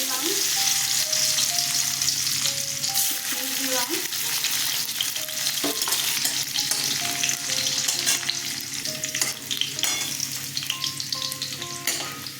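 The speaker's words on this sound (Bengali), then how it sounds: "আমি প্রথমে কাজু কিশমিশ আর পেঁয়াজ ভেজে নেব" Cashews fry in hot oil in a pan, giving a steady, close sizzle that holds throughout, broken by occasional light stirring clicks and scrapes.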